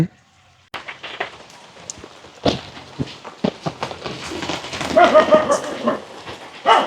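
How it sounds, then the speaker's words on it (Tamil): Steady rain pours down outside a home, a dense hiss that builds over several seconds, broken by sharp nearby knocks and thumps. "மழை வந்து சரியான மாதிரி பெய்து கொண்டு இருக்குது."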